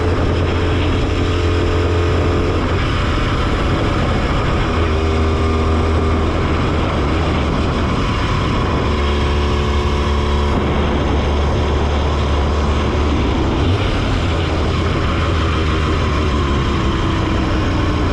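A big-bore two-stroke motorcycle engine runs steadily and loudly with a buzzing, droning hum that rises and falls slightly in pitch, heard close up without talk.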